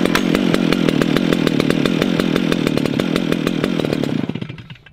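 A Stihl 560 C brushcutter roars loudly at high revs with a rapid buzzing pulse, then the engine winds down and cuts out in the last second.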